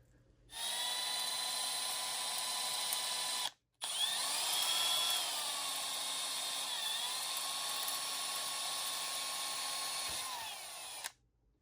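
A small high-pitched drill with a 0.076 bit, drilling an automatic transmission valve body part, whines steadily for several seconds, stops briefly, then runs again with slight pitch shifts before cutting off.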